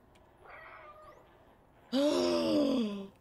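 Meows from the cat in the video game Stray: a soft, faint call followed by a louder, drawn-out meow close up, with no talk over it.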